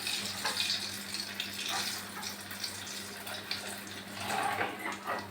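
Vegetable chops deep-frying in hot oil, a steady hiss and crackle running throughout at moderate level with brief louder bursts, close by and with no talking.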